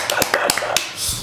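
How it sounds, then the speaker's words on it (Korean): A few quick, close hand claps from talk-show hosts, about six sharp slaps in a loose, brief burst. "우리 한번 박수 한번 치고 가시죠."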